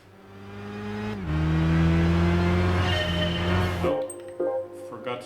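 A race car accelerating in Gran Turismo 5, its engine droning steadily at high revs, rising briefly as it shifts, then dropping off into rattling and clinks near the end, with speech partly over it.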